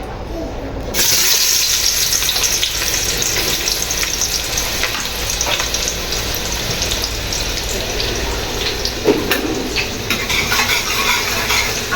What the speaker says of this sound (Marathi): तर आता तेल तापलेलं आहे, आता मी ह्याच्यामध्ये कांदा टाकते.